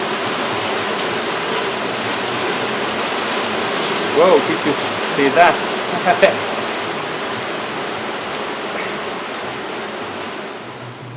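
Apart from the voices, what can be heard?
rain falling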